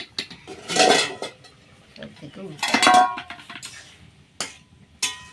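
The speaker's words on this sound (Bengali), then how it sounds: "ঢাকনাটা খুলে একটু নাড়াচাড়া করে চেক করে দেখে নিচ্ছে আলুটা সেদ্ধ হয়েছে কিনা" A pot lid lifted off and potatoes stirred in a home kitchen, two bursts of metallic clatter and scraping with softer knocks and clinks between them, fairly close, no talk.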